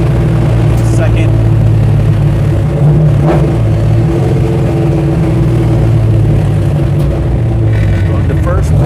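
A 1968 Dodge Charger engine drones loud and steady from inside the car, a deep continuous rumble shifting slightly as it runs through the gears, with talk over it.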